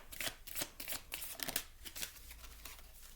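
A deck of tarot cards is riffled and shuffled by hand in a quiet room, a run of quick papery flutters and snaps arriving in bursts for a few seconds, close and soft, with no talking.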